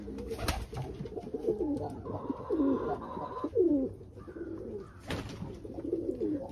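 A flock of pet pigeons or doves coos, with several soft, throaty rolling coos overlapping nearby, joined by brief chirps and a couple of sharp rustling or flapping bursts.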